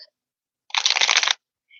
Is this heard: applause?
no